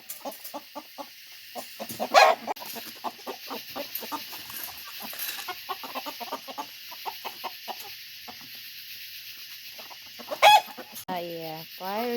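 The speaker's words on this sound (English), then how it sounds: "bless us with their flock of chickens" A backyard flock of about seven chickens clucks and murmurs nearby in a rapid, irregular patter, with a couple of louder squawks and a rooster-like call, quiet overall with no talk.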